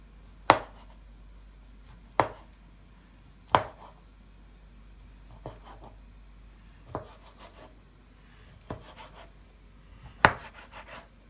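A knife cuts through tomato on a board for shchi, about seven sharp separate chops spaced a second or two apart, crisp and close in a quiet kitchen with no talking.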